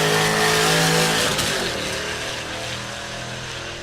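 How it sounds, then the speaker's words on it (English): A turbocharged stick-shift pickup truck at a drag strip roars loud and close, its engine pulling hard before easing off slightly as it passes, with a brief shift break in the middle. "Brett Marvel, the stick shift pickup with all the turbo stuff in the bed"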